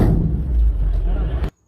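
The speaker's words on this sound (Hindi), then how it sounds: "गाड़ी में टनाटन आवाज आ रही है, आप सुन सकते हो बिल्कुल।" Stones pelting a forest department vehicle during an attack on forest workers in Madhya Pradesh, a dense, loud barrage of clattering impacts mixed with shouting voices that cuts off abruptly.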